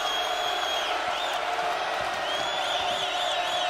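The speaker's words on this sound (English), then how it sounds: "Crowd on its feet." A basketball arena crowd during a close Mississippi State versus South Carolina college game roars and cheers on its feet, a dense, steady wall of whoops and shouts with no break.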